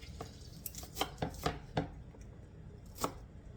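A knife chops through a golden onion on a cutting board, a quick run of five close, crisp thuds followed by a pause and one more chop, with no talking.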